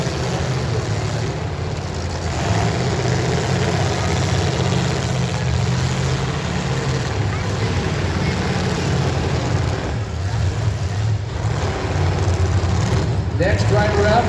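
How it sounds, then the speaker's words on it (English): A demolition derby car engine idles steadily at the Boulder County Fairgrounds, a continuous mid-pitched rumble heard under an announcer's running commentary and crowd noise. "I see the car still running"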